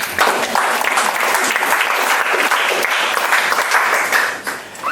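An audience at a pitch workshop breaks into loud, continuous applause that holds steady before tapering slightly near the end.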